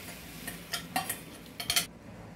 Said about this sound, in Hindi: अब मैं इसको हिलाते हुए कॉर्नफ्लावर को पका लूँगी